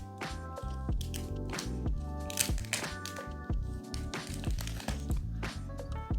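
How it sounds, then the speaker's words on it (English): Crinkling and crackling plastic wrap being peeled off a gray 512 GB Samsung Galaxy Z Flip 5 phone, close and continuous with sharp snaps, over a steady background music bed. "Let me go ahead and unwrap it."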